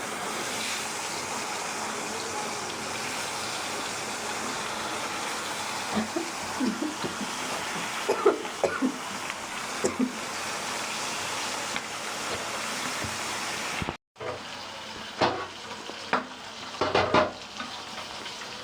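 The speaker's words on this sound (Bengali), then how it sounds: "মাছগুলো ভেজে নিচ্ছি" Fish fry in a pan with a constant, crackling sizzle and occasional stirring clinks. There is a brief break near the end before the sizzle resumes with a few sharper knocks.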